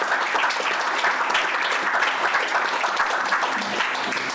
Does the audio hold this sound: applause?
yes